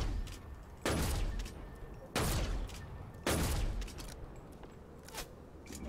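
Sniper rifle in a video game fired three times in succession, each shot a sharp loud crack with a decaying tail, spaced about a second apart over faint background noise.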